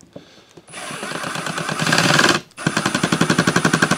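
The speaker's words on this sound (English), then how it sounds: "I'm using my impact driver on the lowest torque setting." A cordless impact driver set to its lowest torque drives screws during a Delta bandsaw upgrade. It starts with a brief whir, then rattles in a long hammering burst. After a short pause comes a second run of rapid, evenly spaced impact clicks. Close and loud, with no voices.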